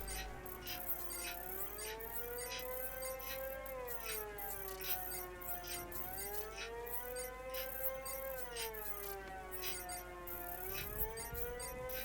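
A wailing siren in the Batman Arkham Knight video game rises and falls in slow repeating sweeps, loud and steady throughout with no voices over it.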